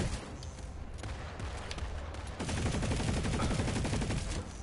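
A default weapon fires in Planetside 2, rapid automatic gunfire in steady bursts that grows louder and denser in the second half.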